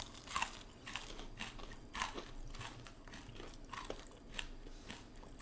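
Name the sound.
crunchy chewing of dry fried food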